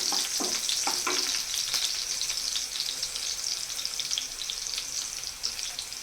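Garlic and green chillies frying in a pan, a continuous close sizzle with scattered crackles and stirring scrapes, strongest at the start, no voices.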